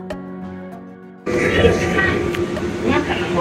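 The Plane Train people mover at Atlanta airport starts up after a quiet stretch of tonal hum and chimes. It becomes a loud, steady rumble and whir of the moving car, heard from inside.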